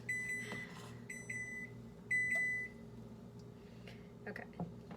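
A kitchen oven signals with a string of bright electronic beeps, three longer tones in a row, heard fairly close above a low background hum.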